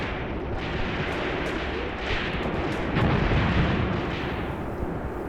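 Sustained artillery barrage in a WW2 North African battle game, a dense rumbling wall of heavy booms and distant detonations rolling continuously at steady loudness, swelling slightly midway, with no voices.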